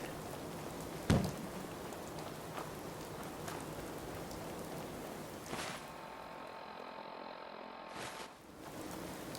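Rain falls in Fallout 4, a faint, steady patter on surfaces with a soft thump early on and a few tonal game sounds layered in, no voices.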